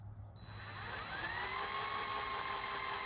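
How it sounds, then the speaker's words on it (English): A high-pitched whine spins up and holds steady as a part from a 140cc Piranha engine spins fast in a drill, loud and continuous with no talking. "I chucked it up in a drill"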